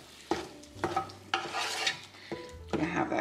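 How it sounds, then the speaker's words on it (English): Minced garlic tipped into a slow cooker at home, giving a few sharp clattering and stirring bursts with scraping in between, close by and free of speech. "I'm also adding some minced garlic in here"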